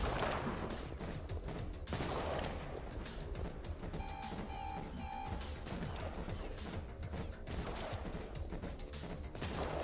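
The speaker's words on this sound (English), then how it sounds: "That's a lot of shotguns." Shotgun blasts ring out in a video game firefight, dense and continuous with heavy booming shots at a steady rhythm and a few electronic game beeps in the middle, loud throughout with no talk.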